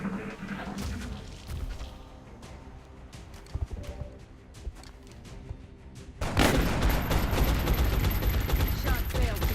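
Gunshots ring out in the XCom video game, scattered sharp cracks over a busy battle bed that erupts into a dense, loud barrage of fire for the final few seconds.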